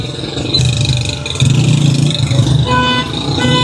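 Busy Lahore street traffic with car engines rumbling close by and horns tooting now and then, a steady loud wash of vehicles with faint voices underneath.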